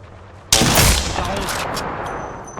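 A sniper rifle opens fire in the battle royale game Apex Legends, one sharp loud blast that cracks in and rings out into a lingering decaying tail, with no talk.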